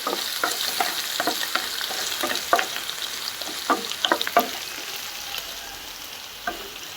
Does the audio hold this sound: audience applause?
no